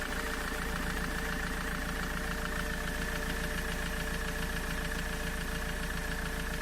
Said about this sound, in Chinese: 发动机也稳当了，那个螺丝紧完了，发动机都稳了